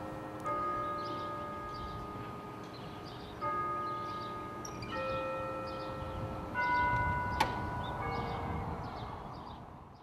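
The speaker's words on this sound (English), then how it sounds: "the Opera House bell tower rings on the hour" Woodstock Opera House bell tower ringing on the hour, a series of resonant tolls, each ringing on and overlapping the next, heard from some distance over faint outdoor background.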